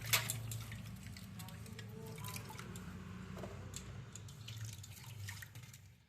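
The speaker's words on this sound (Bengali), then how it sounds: "যাতে জলটা গড়িয়ে পড়ে যায়" Water drips and trickles off freshly washed green mangoes, a steady patter of small, close drops over a faint low hum, with scattered brighter splashes throughout.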